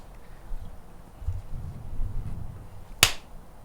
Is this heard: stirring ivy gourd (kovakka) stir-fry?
no